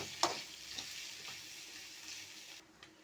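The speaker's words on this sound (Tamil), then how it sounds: "லைட்டாக அந்த முட்டையை மட்டும் நல்லா கிளறி விடுவோம்." Egg stirred and frying in a pan, a faint steady sizzle with a few soft utensil taps and scrapes, no voices.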